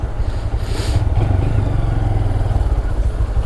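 Engine drone of a 2022 Honda Grom small motorcycle while riding, a steady low rumble with wind noise running throughout, fairly loud and close.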